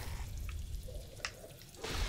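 Sparse water drips in the video game Never Alone: two or three faint, isolated plinks spaced about a second apart, with a low ambient hum underneath.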